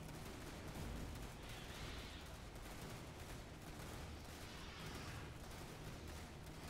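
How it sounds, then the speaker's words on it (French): Dense, continuous gunfire fills a battle in the video game Starship Troopers Terran Command, with shotgun blasts merged into a steady roar of rapid shots and booms throughout. "Putain, que j'aime ça, le fusil à pompe"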